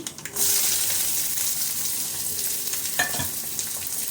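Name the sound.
chopped onions frying in oil with mustard seeds and urad dal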